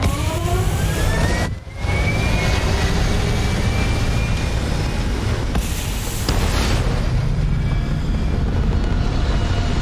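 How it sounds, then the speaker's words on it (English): A spaceship lifting off in the video game Starfield, a steady, loud engine roar with a rising whine and a brief dip early on, dense and continuous with no voices. "We have liftoff."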